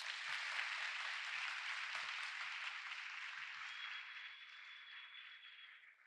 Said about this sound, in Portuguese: Cadê as palmas pro doutor, gente?